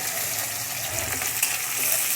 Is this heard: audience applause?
no